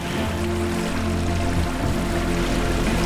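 Water rushes and splashes continuously around a sailboat off Komodo Island, Indonesia, loud and close, with a low droning hum running beneath the wash.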